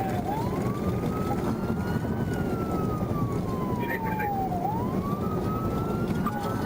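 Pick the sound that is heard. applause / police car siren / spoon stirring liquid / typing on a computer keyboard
police car siren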